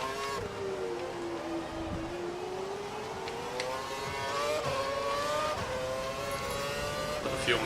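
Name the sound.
F1 race car engine revving in video game F1 2012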